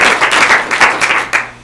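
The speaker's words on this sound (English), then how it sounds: "Could you give them a round of applause?" An audience at a women's networking event applauds the panelists, with loud, close clapping that swells and then tapers off in a brief burst.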